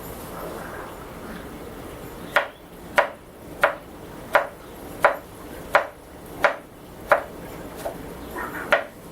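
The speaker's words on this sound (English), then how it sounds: "we're going to slice a little bit of our onion here" A knife slices through an onion on a cutting board, about a dozen crisp, evenly spaced chops at close range, each a sharp tap against the board with quiet background between strokes.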